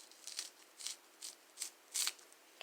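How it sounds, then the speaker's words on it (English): Kitchen scissors snip through a scallion in five or six crisp, evenly spaced cuts, quiet and close with near silence between each snip. "First, I want to cut the scallion down the middle."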